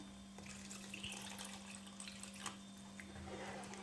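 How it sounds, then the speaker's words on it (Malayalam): One cup of water pours into a pan of matar paneer curry made with yogurt, giving a soft, steady splashing trickle over a low background hum, faint and close with no speech. "ഇനി നമുക്ക് ഇതിലേക്ക് ആഡ് ചെയ്ത് കൊടുക്കേണ്ടത് 1 കപ്പ് വെള്ളമാണ്."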